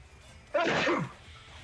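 A single sneeze bursts out close by, brief and moderately loud against a quiet, faintly humming background.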